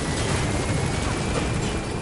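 A helicopter in a combat video game gives off a loud, constant rotor and engine roar that fills the whole stretch without a break.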